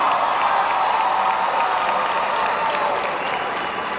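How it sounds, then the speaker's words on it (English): A graduating class at a spring commencement ceremony bursts into sustained, dense applause from a large crowd, a steady roar of many hands with faint cheers mixed in. "Give yourselves a round of applause."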